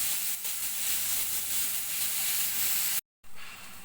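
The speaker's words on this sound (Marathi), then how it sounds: "आता हा कांदा आपण चांगला गुलाबी रंगावर होईपर्यंत परतून घेणार" Onion sautéing in a pan until pink for a mixed vegetable kofta curry, a steady loud hiss and sizzle throughout that cuts out briefly near the end before resuming.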